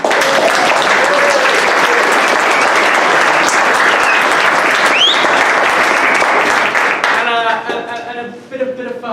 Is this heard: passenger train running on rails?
no